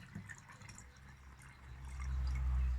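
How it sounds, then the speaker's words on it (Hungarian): Water is poured into a bottle while a tornado-in-a-bottle experiment is prepared, a faint trickle and drip that swells into a low, filling gurgle toward the end, with no talk. "Akkor még egy kicsit öntünk bele."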